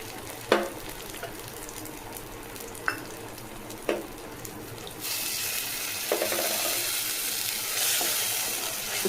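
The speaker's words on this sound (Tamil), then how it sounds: "அந்த மசாலாவும் லேசாக வதங்கட்டும்." Masala sautéing in a pan for Tamil-style egg curry: a few sharp clinks of a stirring spoon, then a sudden, steady loud sizzle that carries on to the end, close and continuous.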